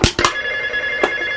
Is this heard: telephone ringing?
yes